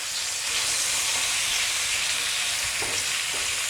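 Zucchini fries in a pan, giving a steady, bright sizzle and hiss that runs unbroken throughout, with a couple of faint soft knocks near the end.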